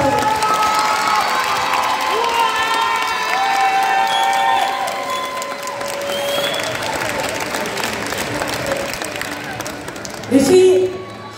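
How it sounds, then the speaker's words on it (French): An audience claps and cheers steadily through a live show, with many voices calling out under the applause and a brief louder burst near the end. "Alors applaudissez encore très fort pour son travail."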